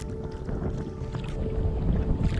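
Kayak paddling on the Namekagon River in the St. Croix National Scenic Riverway: close, continuous water swishing and splashing from paddle strokes, mixed with light wind noise against the microphone.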